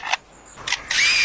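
An Australian lyrebird mimics a camera shutter with several crisp, close mechanical clicks and whirs in short separate bursts, and the last burst is longer and sustained.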